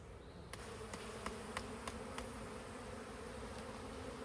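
Agitated honeybees buzz during a hive inspection after a split, a steady, faint drone of many bees with a few sharp ticks near the start and no voices over it.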